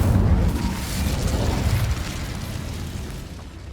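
Incendio fire spell blasting in Hogwarts Legacy, a loud whooshing burst that roars with low rumble at the start and then settles into a sustained crackling flame rush that fades slightly toward the end.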